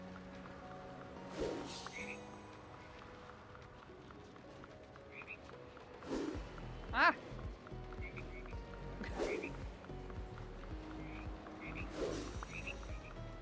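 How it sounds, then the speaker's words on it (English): Frogs croak in Disney Dreamlight Valley, several separate calls spread across the stretch over a quiet game background, with a short spoken exclamation in the middle. "I hate the frogs."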